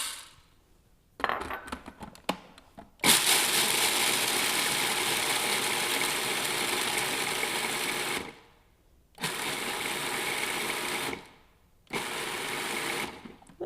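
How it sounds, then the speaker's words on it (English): Food processor pulverizing half a cup of raw pumpkin seeds, a loud continuous whirring grind in three bursts separated by short pauses, with some rattling at the start and no talk. "half a cup of raw pumpkin seeds that we will be putting in this food processor"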